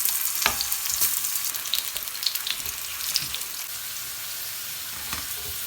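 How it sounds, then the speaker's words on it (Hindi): Potato pieces frying in hot oil, cooked in batches alongside eggplant for Afghani borani, give a steady close crackling sizzle with a few sharper pops and faint utensil clinks. "अब इसी तरह हमने आलूओं को भी फ्राई कर लेना है।"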